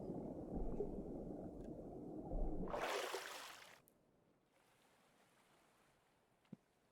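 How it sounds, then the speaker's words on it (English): Boat engines start up in the video game Stormworks, beginning with a loud rumbling churn and a rising whoosh that cuts off abruptly, leaving a faint low hum and a single sharp tick. "These engines do take a very long time to start up."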